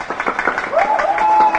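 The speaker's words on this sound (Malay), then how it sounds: "Tepuk tangan untuk Rajo Lenggang" Brief audience applause for the performer Rajo Lenggang at a Minang comedy show, a scattered patter of clapping from a moderate crowd with a faint voice or whistle-like tone running through it.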